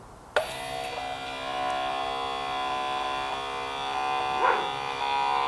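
An electric brake pump motor on a Sapphire RS Cosworth, wired straight to a battery, starts with a sharp click and then runs as a steady, close, high-pitched buzzing whine, with a brief surge near the end.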